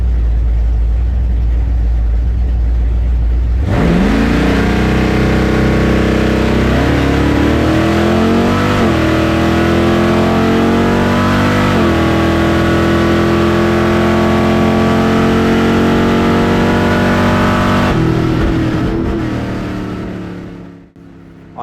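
A supercharged small-block Chevy drag car, a fast small-tire car, launches with a sudden roar and holds a loud, sustained high-revving note down the lane, with brief gear-change dips before fading out near the end.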